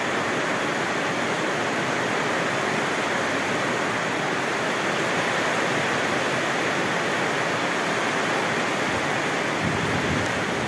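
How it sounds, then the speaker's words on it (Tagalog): Heavy rain pours down in a steady, dense roar of hissing noise that stays constant and loud throughout, with no voices. "Buhos na naman yung ulan."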